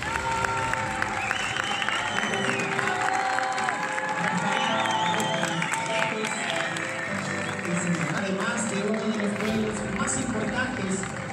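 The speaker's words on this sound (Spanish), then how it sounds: "fuerte el aplauso" Audience applause at a community cultural presentation in Cochabamba, a steady dense wash of clapping with some crowd cheering, moderately loud and continuous throughout.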